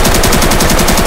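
Automatic gunfire from the video game Escape from Tarkov rattles as one loud, continuous rapid burst of evenly spaced shots.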